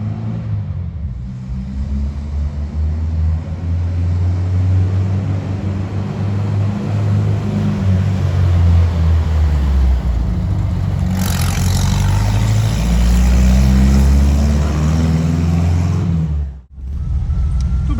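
Athos 356 Roadster with a boxer engine running through an all-stainless MAF exhaust, a loud, steady low rumble that swells midway, cuts off briefly near the end, then resumes.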